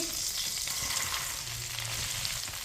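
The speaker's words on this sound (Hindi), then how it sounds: "घी को मैंने गर्म कर लिया। 1 प्याली फूल मखाने डालेंगे।" Fox nuts (makhana) fry in hot ghee with a continuous, close sizzle and soft stirring underneath, with no voices.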